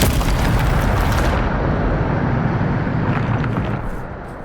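A Depulso spell from Hogwarts Legacy bursts out as a loud, sustained boom-like blast that holds steady for over a second, then rumbles on and slowly fades toward the end.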